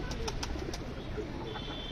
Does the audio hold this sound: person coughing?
no